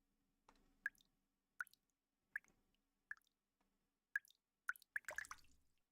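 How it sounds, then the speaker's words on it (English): Slow, separate water drips in a Nikke video game event scene, about eight sharp plinks spaced roughly a second apart, then a quicker burst of splashy drips at the end, with no talk over them. "What's that dripping noise?"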